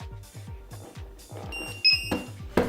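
Muffled, dull alarm buzzer beeps, dampened with foam, repeat in a steady rhythm, followed by a few brighter electronic tones and clicks near the end, from a home-made spot welder.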